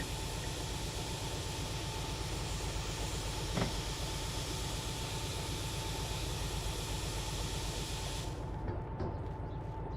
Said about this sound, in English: So we're going to apply the train brake.